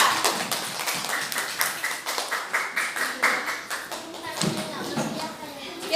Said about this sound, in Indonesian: kasih tepuk tangan untuk Naza.